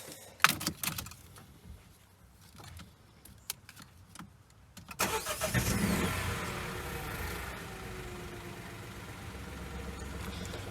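A Citroen DS3 engine starts up after an oil change, a few clicks and clatters first, then the engine catching with a burst and settling into a steady, close idle hum.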